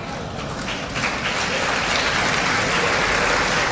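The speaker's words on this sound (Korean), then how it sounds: "이 어색한 박수가 이어지고 있습니다" Sustained applause fills a large assembly hall, a steady, dense wash of many hands clapping without a clear rhythm, lukewarm and unbroken throughout.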